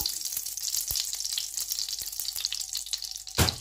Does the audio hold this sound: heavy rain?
no